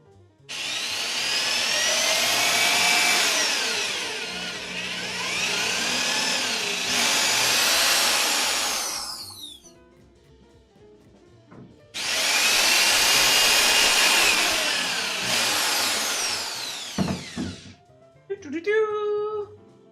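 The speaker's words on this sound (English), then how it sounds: "Holes drilled!" A power drill bores holes through 2x4 lumber for a table saw stand, whining in two long, loud, close bursts with a gap between them and a brief final spin at the end.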